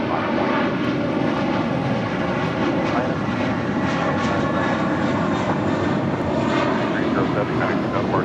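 An American Airlines A321 airliner taking off from LAX, its engines a loud, continuous roar that holds steady and close throughout.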